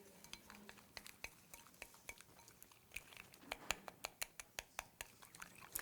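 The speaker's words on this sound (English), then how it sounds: "And you're going to stir that in well." A spoon stirs MSM powder into a drink, clinking sharply against the glass in a quick, irregular series of taps that grows denser toward the end. It is quiet and close, with no voices.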